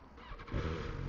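A 2025 BMW S1000 XR motorcycle engine fires up close by, a short crank-like rumble swelling into a loud, steady low idle.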